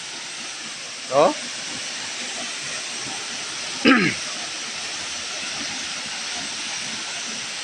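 Ulan-Ulan Falls in Almeria, Biliran, heard as a constant broadband rush of falling water, with two brief voice exclamations on top.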